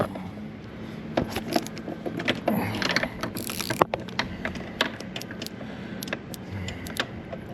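Ratchet turning out a screw on the lower cowl of a Mercury Optimax outboard, short repeated metallic clicks in uneven bursts with some clinking of tools, close and fairly loud, no voices.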